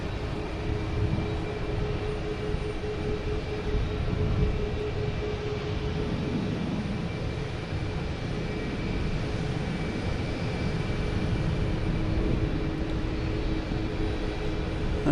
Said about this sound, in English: Carl, if you're still on, we got Aer Lingus